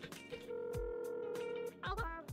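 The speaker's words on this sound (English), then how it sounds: "I guess we have to make a phone call to Ellie real quick" A phone ringing in the video game Dave the Diver gives one sustained electronic tone over a game soundtrack of plucked, percussive notes, heard at moderate level with no talking.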